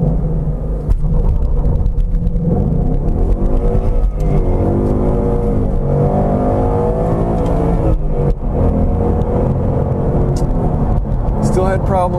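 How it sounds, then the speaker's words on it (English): A 2015 Ford Mustang GT makes a first-gear launch-control start, its loud V8 roaring and rising in pitch under hard acceleration, then briefly dropping before climbing again after a shift, heard close and continuous. "we'll do a first gear launch, shift into second, and let it do all the traction settings"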